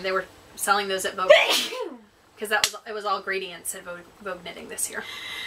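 A person sneezes loudly once, sharp and close, in the middle of a casual conversation between women about knitting yarn. Talking continues before and after it.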